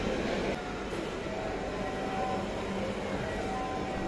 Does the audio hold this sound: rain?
no